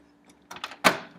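A door opens with a few short clicks and rattles, then one louder bang, all close by and over in about a second.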